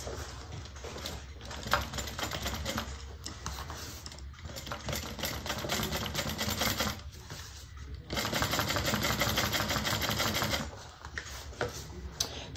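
Home sewing machine running steadily while winding a bobbin during bag making, a continuous close whir with brief pauses and a louder stretch partway through.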